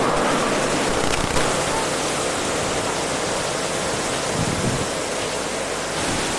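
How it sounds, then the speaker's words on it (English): The Jordan River flowing out of the Sea of Galilee makes a steady, loud, broadband rush of moving water, unbroken throughout. "This is where the Jordan River flows out of the Sea of Galilee."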